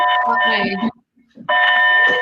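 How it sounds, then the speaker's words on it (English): A school bell rings in two loud electronic bursts with a short quiet gap between them, a steady tonal sound that fills the clip. "is that your school bell?"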